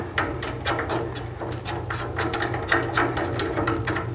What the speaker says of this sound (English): And then secure it with your Allen wrench.